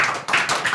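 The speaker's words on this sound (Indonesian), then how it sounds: "Tepuk tangan dong." Short burst of audience clapping during a special takbir-night television program, dense hand claps filling the room with no talk over them.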